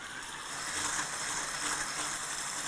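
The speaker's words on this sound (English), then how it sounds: "And now we're going to whisk it up again." A whisk beats a mixture of fresh lime juice and zest in a bowl for key lime pie, giving a steady, continuous scraping swish throughout with no talking.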